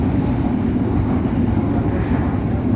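A train running on rails in Rome, Italy, a loud continuous low rumble and roar heard from on board, steady throughout without pauses or voices.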